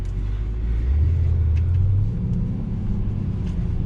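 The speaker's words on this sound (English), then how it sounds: "Listen to the downshifts." A 2019 Mercedes-AMG GT 63 S sedan downshifts under braking on a twisty road, its engine giving a loud, deep rumble that rises in pitch and then settles, with no talking.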